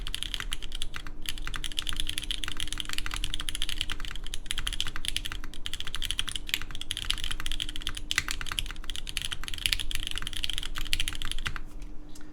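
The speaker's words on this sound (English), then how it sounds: "So this was the sound of the Ultem plate with MX oranges." Steady, fast typing on a top-mount mechanical keyboard with an Ultem plate and MX Orange switches, a close, clean clatter of keystrokes under a faint hum with no talking.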